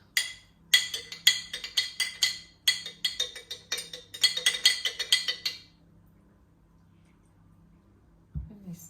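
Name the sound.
spoon gently stirring kefir grains in a glass jar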